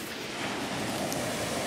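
Storm-driven ocean waves surge at high tide along a Perth shoreline, heard as a constant dense roar of surf with wind, fairly loud and unbroken over a short moment, with no voices.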